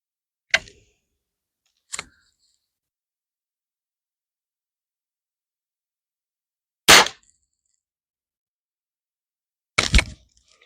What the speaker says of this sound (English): Shooting 25 yards, and we'll see what we hit down there.